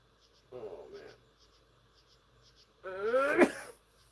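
A person sneezes indoors while working on a cabin build, with a short breathy buildup followed by one sharp, loud sneeze, close by, with low background hum.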